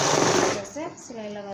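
A sewing machine stitches a designer blouse in a fast, rattling whir for most of a second before stopping, followed by someone talking.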